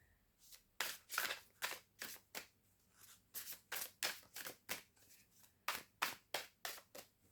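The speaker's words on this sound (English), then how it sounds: "I love these cards. They're so lovely to shuffle." Playing cards being shuffled in a run of about fifteen crisp riffle bursts, each a short papery flutter, close and clear with no talking.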